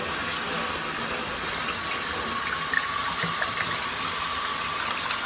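Water runs steadily from a sink faucet during handwashing in a nursing-assistant skill demonstration, a constant, fairly close hiss with no pauses and no talking.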